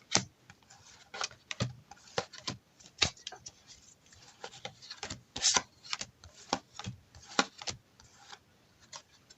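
Tarot cards are shuffled by hand in quick irregular bursts of soft riffling and slapping, close and fairly quiet, with no talking.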